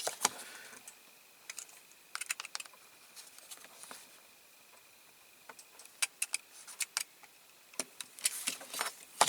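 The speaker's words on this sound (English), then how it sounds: "I'll Just tidy that up with the scissors." Scissors snipping through card while trimming a handmade Dinky and Corgi model box at a workbench, heard as scattered short crisp snips and rustles, close and fairly quiet, with no talking.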